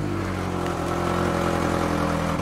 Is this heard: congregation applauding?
no